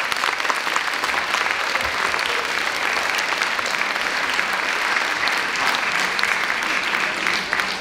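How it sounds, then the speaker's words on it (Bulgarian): Steady, dense applause from an audience at a Christmas school celebration, filling the room evenly for the whole stretch without a break. "Моля силни аплодисменти!"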